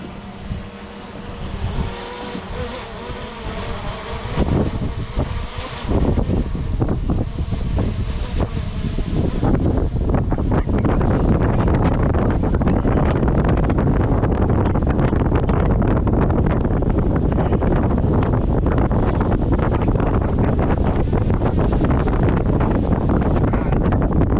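Strong wind buffets the microphone outdoors during a hand catch of a DJI Mavic Air 2 drone, loud and continuous gusty rumble that thickens and steadies after the first few seconds.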